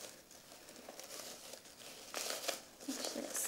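Tulle fabric being trimmed and knotted by hand for a puff bow: soft close crinkling and rustling, with brief snips and tugs that grow louder toward the end, no talking.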